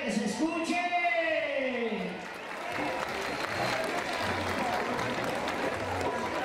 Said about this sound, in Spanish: Un aplauso fuerte a Dios Padre, que se escuche.